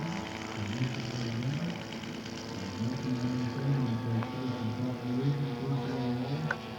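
A radio-controlled scale model aircraft, a past U.S. Scale Masters Championship winner, comes in to land, its engine droning steadily at moderate distance with a slowly wavering pitch.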